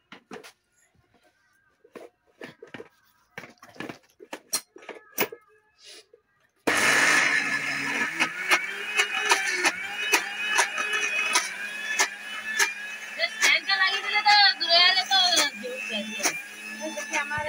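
Lentil paste being ground for bori at home in a Bengali village, a steady loud whirring grind that starts abruptly partway through and runs continuously after a stretch of quiet clatter and brief sounds.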